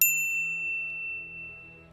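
A single bright notification bell ding strikes at the start and rings out with a long, fading metallic tail, heard alone without any talk.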